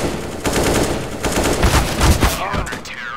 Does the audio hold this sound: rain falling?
no